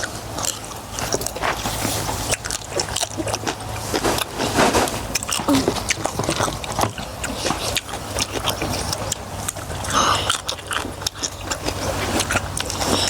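Crunchy chewing of a Thai red ant egg and live shrimp salad, irregular crisp bites and scraping crunches close to the mouth, with occasional short vocal sounds mixed in.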